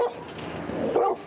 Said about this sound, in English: You can hear him barking really viciously